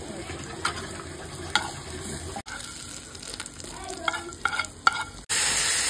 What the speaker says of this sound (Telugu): వేయించి జీలకర్ర కూడా దాంట్లోని వేయించుకోవాలి